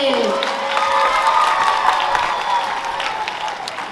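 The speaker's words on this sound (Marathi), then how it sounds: "पालकाने जरा जोरात टाळ्या वाजवा की" Parents at a children's comedy play in Vengurla clap loudly together in sustained, dense applause, with a brief voice at the start and crowd noise mixed in.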